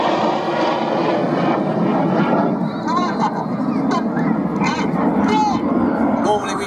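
Jets flying in formation roar loudly and continuously at an air show, with a commentator talking over the engine noise throughout.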